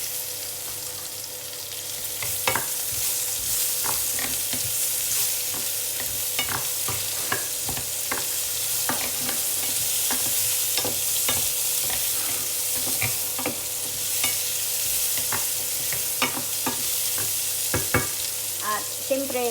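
Chopped onions and garlic fry in a pan with a constant loud hiss, while a spatula scrapes and taps against the metal in an uneven rhythm throughout.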